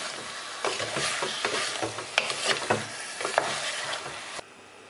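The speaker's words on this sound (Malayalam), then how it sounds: "ചിക്കനും ഈ മസാലയും കൂടെ നമുക്ക് നന്നായിട്ടൊന്ന് യോജിപ്പിക്കാം." Chicken being mixed with masala in a pan while making pressure-cooker chicken biryani, close scraping and clacking strokes of a spoon over a soft steady sizzle, irregular rhythm, ending abruptly, no voices.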